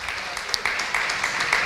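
A crowd at a ham and bacon auction breaks into dense, continuous applause, fairly loud and steady throughout the short burst.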